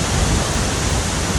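A waterfall near Juneau, Alaska, pours down in a loud, steady, broadband roar, close by and unbroken, with no voices over it.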